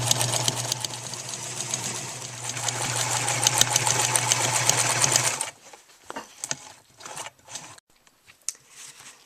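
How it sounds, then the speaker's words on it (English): Sewing machine stitching the seams of a hemp fabric shopping bag, a steady close mechanical whir running for about five seconds before stopping, followed by a few light clicks and handling sounds. "And then you'll just go along sewing all three sides that were pinned."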